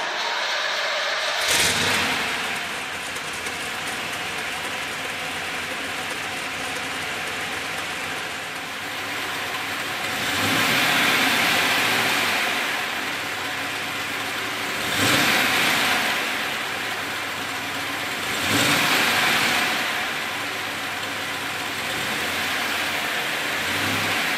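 A 1964 Corvette Stingray with a 327 V8, cast iron exhaust manifolds and an N11 off-road exhaust idles with a steady rough rumble, broken by three or four brief throttle blips that swell and fade.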